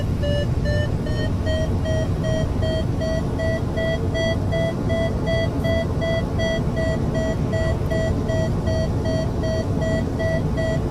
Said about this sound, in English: This is the variometer, so when it beeps like this, it's showing us that we are actually climbing at the moment.